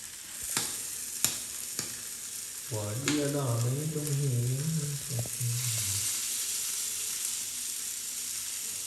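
Onions wilting and sizzling in a hot pan with mayonnaise for a horse meat burger, a steady hiss with a few sharp clicks and a burst of stirring noise partway through.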